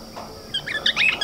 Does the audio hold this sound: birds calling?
yes